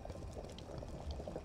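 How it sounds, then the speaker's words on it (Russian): Liquid boils in a brewing pot in the Brewpub Simulator video game, a continuous soft bubbling and gurgling at low volume, steady throughout with no speech. "Это закипает."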